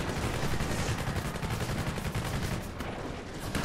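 Gunshots in the video game Prototype come as a steady, fairly muffled wash of rapid firing and combat noise, continuous and moderately loud throughout, with no voices.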